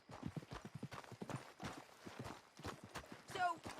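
Horse hooves clip-clop in Red Dead Redemption 2, a quick close rhythmic run of hoofbeats, with a brief whinny-like squeal near the end and faint voices beneath.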